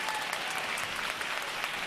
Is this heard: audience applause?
yes